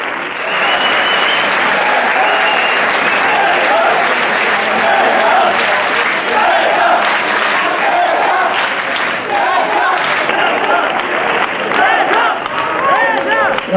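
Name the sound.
applause at basketball team presentation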